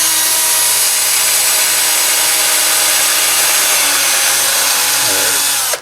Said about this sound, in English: Some of my DeWalt drill will not hold a 1/16 inch bit very well.